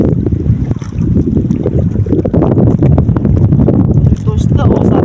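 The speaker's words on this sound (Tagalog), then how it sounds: "Yung mayroong hangin-hangin." Strong wind buffets the microphone in loud, rough gusts on a longline fishing boat at sea, with water sloshing and people talking underneath.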